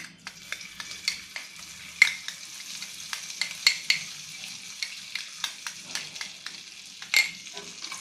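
Puffed lotus seeds are stirred with a ghee mixture in a pan, giving a string of crisp, rattling scrapes and light knocks at a steady pace, close by with no talking.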